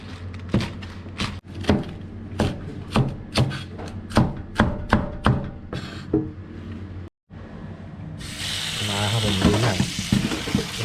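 Steady, rhythmic knocks and clatter in a kitchen give way to a loud, continuous sizzle as curry paste for a beef and mustard greens curry hits a hot pan and is stirred.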